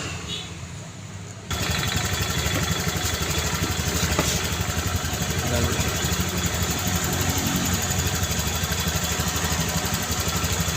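A Honda Vario 150 fuel-injected scooter, which has a red warning light on, starts up after a moment of quiet and then settles into a steady, close idle that runs on continuously.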